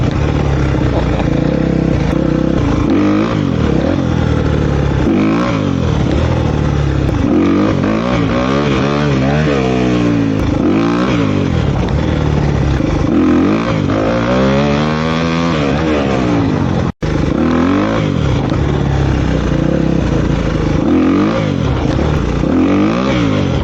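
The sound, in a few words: motorcycle revving while popping a wheelie in first gear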